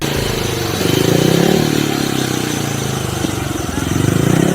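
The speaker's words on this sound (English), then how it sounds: "He's going to be warming up his bike." A speedway motorcycle engine warms up at Costa Mesa Speedway on opening night, a loud, steady, buzzy mid-pitched drone with slight swells in revs throughout, close by.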